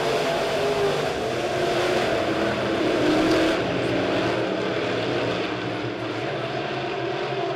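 B-Modified race cars roaring around Springfield Raceway during the Turkey Bowl XII B-Main, a steady loud wall of engine noise from a passing pack that holds throughout.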